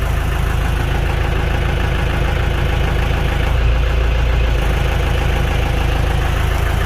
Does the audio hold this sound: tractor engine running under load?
yes